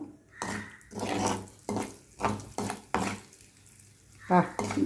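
Mustard and fenugreek seeds splutter in hot oil while pickle is made, sharp crackling bursts popping in irregular clusters at close range, with brief quieter gaps between them.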